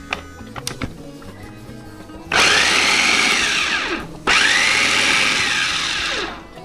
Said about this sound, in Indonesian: Kita mau blender ya. Cincang kasar lah atau chopper gitu.